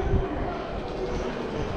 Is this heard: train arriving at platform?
yes